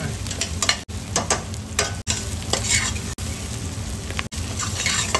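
Vegetables and spices for butter chicken sizzle in a hot pan while a utensil stirs and scrapes them in repeated strokes, close and continuous, with brief regular dropouts.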